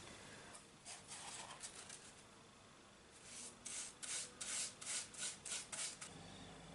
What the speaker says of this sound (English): I'm literally just going to paint it all over.